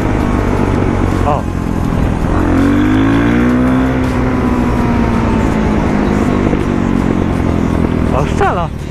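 Revving motorcycle engine, an XTX660 or DRZ400, on an empty parking lot, rising and falling with sharp exhaust pops and crackles near the end, loud and close under talk.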